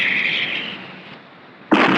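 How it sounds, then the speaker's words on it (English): Six 4.5-inch naval guns aboard the Australian destroyer Vampire open fire, a single sharp, loud blast bursting in abruptly after a steady hiss of shipboard noise. "About to open fire now, sir."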